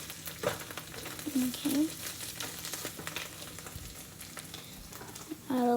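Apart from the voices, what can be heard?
onion frying and being stirred with potatoes and chorizo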